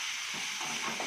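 Peas and carrots are stirred in a hot pan, with a steady hiss of frying and a few soft scraping strokes of a spoon, close by and without talk.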